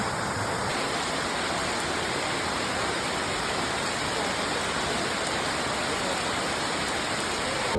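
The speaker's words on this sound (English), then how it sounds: "There are many falls in here as well." Steady, dense rushing of falling water, a continuous broadband roar with no pauses, heard close and alone.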